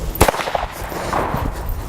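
A single sharp blank-like gunshot cracks near a horse during a training session, followed by a few fainter pops and rattles, with rustling ambient noise outdoors afterwards.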